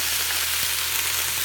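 Onions frying in a pot over medium-high heat for pot roast, a loud, even, close hiss of sizzling oil with a low hum underneath and one faint knock midway.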